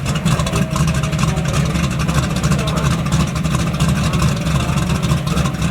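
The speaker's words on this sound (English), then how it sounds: "he's taking the old crusty dart for a couple of runs down the Richmond Dragway 8th mile" A Dodge Dart drag car, an old street car making runs down the Richmond Dragway eighth-mile, gives a steady, loud, low engine roar that stays dense and continuous throughout.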